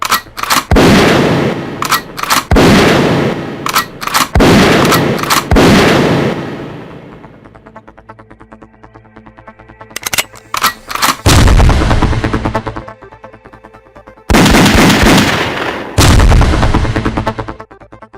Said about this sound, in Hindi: हाथ में मौजूद रिपीटर गन से पुलिस वालों पर अंधाधुंध फायरिंग शुरू कर दी।